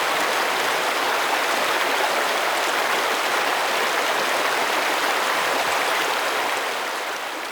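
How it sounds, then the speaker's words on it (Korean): Steady rushing water of a forest stream in summer in Mongolia flows continuously, a dense even babble with no voices, easing slightly toward the end. "시원한 물소리가 귀를 맑게 하는 여름날 오후"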